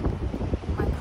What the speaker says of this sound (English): the wind is pretty hectic